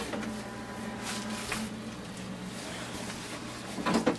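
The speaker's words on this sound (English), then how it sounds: "now we load the paper tray" Paper tray of a Canon TS3325 inkjet printer being loaded at close range: a steady low hum with light plastic rubbing and sliding throughout, ending in a slightly louder clatter as the tray is handled.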